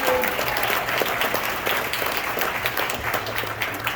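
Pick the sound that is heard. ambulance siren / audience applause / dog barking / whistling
audience applause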